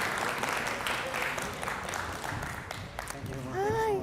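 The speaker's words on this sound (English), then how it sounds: "Please say a big clap of applause" An audience claps in steady applause after a talk at a security conference, dense and moderately loud, with a voice beginning to speak near the end.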